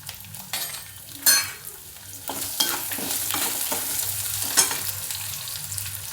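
Onion frying in hot oil with ginger, garlic and curry leaves for a green chickpea dish, a steady close sizzle broken by scraping stirs of a spoon against the pan, with no talking.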